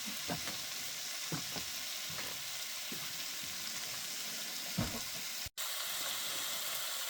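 Meat and canned mushrooms fry in a pan during a camper-van stay at Lac d'Orient, giving a steady close sizzle and hiss with a few faint clinks of a utensil and no talking.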